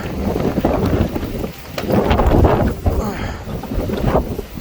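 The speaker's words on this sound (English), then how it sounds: "Santa Ana winds, Southern California." Hurricane-force Santa Ana winds in Southern California roar and buffet the microphone in loud, gusting rushes with rumbling low noise and no clear talk.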